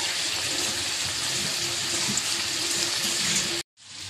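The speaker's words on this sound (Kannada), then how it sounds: "ಇದು ಎಣ್ಣೆಯಲ್ಲಿ ಚೆನ್ನಾಗಿ ಫ್ರೈ ಆಗಬೇಕು." Okra pieces fry in hot oil with a dense, steady hiss that runs for several seconds, cuts off abruptly, then resumes briefly at the very end.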